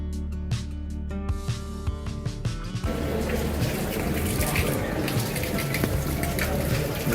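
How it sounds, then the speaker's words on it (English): Water splashes from a public fountain in Dubrovnik's walled old city as bottles are filled, first with clinks and scattered drips over a tonal hum, then a steady close gushing stream. "our first stop was in front of this fountain to fill our water bottles"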